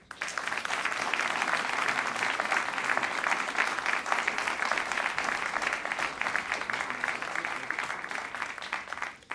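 An audience at a NASA awards ceremony applauds steadily, a dense wash of clapping that holds for several seconds before cutting off.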